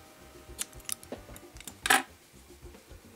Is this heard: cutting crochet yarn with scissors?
yes